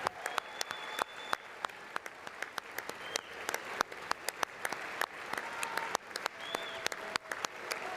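Thin, sparse applause at the State of the Union, with only a handful of distinct claps ringing out at irregular intervals over a faint room hum.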